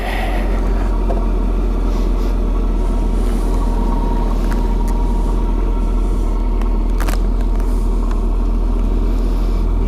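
A started motorcycle engine idles in wet, rainy conditions with a steady low rumble, joined by a few faint clicks and knocks.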